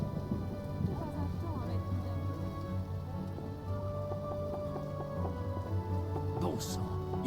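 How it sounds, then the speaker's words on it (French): Steady rain patters on surfaces in The Witcher video game, with a low rumble of thunder beneath and game music tones layered over a constant wash. "Bon sang, il ne devait pas pleuvoir."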